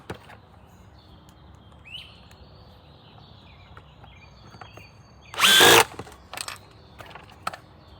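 A cordless drill fires in a short loud burst around a pocket-hole screw being driven into wood with an automatic pocket hole jig, followed by a few brief tool blips in a quiet workshop.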